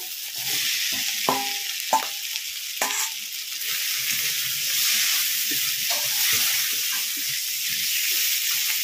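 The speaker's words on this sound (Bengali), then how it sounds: "মশলাটা কষানো হয়ে গেছে, এখন ভেজে রাখা কাঁকড়া দিয়ে দিচ্ছি।" Fried cheetah crab pieces stirred into a hot, sizzling spice masala in a pan produce a loud, steady hiss with scraping and knocking stir sounds early on, close up and without speech.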